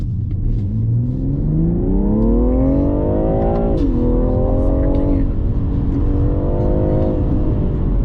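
A tuned BMW M340i pulls hard under acceleration, a loud close engine note climbing through the gears with a brief dip at each shift, while people talk over it inside the car.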